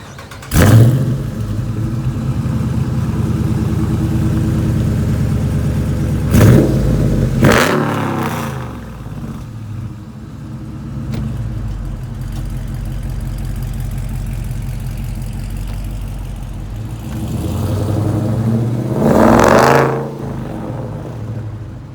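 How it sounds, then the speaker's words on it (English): A car engine fitted with long tube headers idles with a deep exhaust rumble, punctuated by several sharp revs, loud and close, with a final burst near the end. "You want to do a couple of accelerations right here so we could listen to the exhaust?"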